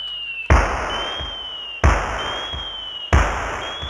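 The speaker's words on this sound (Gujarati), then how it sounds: "બાકી ફટાકડો ફૂટે હો." Three sharp firecracker bangs burst at a nighttime Ramamandal devotional drama performance, each loud crack followed by a brief ringing decay, with steady background tones between.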